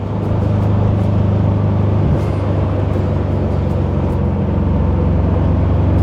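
A 1975 Porsche 914 Targa, Malaga Red with a 5-speed, drives along a country road, its engine and exhaust holding a steady, loud, close drone throughout with constant low rumble.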